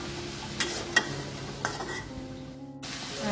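Tofu filling cooked and stirred in a pan, with a steady low sizzle and a few light scrapes and clinks of a utensil against the pan, fairly quiet and without talk.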